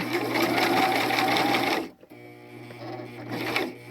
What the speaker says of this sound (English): you bring the needle down, and you can sew just a little bit here